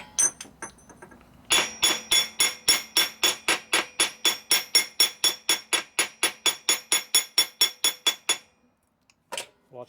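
Hammer blows strike a bowed metal Harley-Davidson six-speed transmission part to flatten it: a few scattered taps, then a fast, even run of about twenty-five loud ringing metallic hits, then silence and one last pair of strikes.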